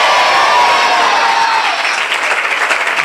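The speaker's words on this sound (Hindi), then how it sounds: "जोरदार तालियों" Loud, sustained applause from a congregation at a Hindi-language church revival service, a dense wash of clapping filling the full clip with no speech over it.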